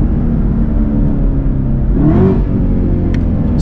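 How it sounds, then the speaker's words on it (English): Chevy Camaro ZL1 1LE engine idling with a steady low rumble, then rising in a brief rev blip as the car downshifts from eighth gear to the lowest gear while the minus paddle is held. "So you can see it downshifts to the lowest gear."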